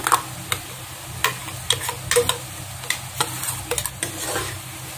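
Ground cashew paste stirred into chicken curry masala frying in a pan, heard as repeated close scraping and clinking of a spoon against the pan over a steady low sizzle, with no voices.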